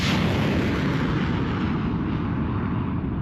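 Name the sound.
American MLRS multiple launch rocket system firing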